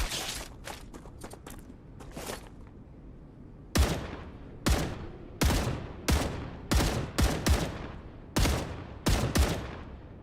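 Video game gunfire aimed at bugs, sharp loud bursts of shots in rapid groups, a scattered run of lighter shots first and then heavier evenly spaced volleys, close and dominant with no talking.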